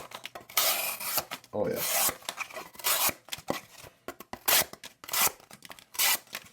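A budget flat-ground EDC pocket knife slicing through cardboard, held in a forward choke grip at the finger choil: repeated rasping, scraping strokes in short bursts, close and fairly loud, with a brief spoken remark.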